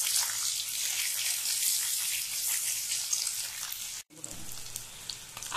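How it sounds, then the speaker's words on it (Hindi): An egg frying in a pan for egg masala, a steady close hiss of sizzling oil that runs evenly, cuts out sharply for a moment, then resumes more faintly with a few low bumps. "आप देख सकते हैं अपना अंडा अच्छे से फ्राई हो चुका है।"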